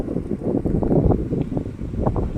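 Dry wind blows outdoors at a long bamboo bridge at Kaeng Along in Muang Nong, Savannakhet, Laos, making a steady, rumbling gusty roar that buffets the microphone and stays loud throughout, with no talking.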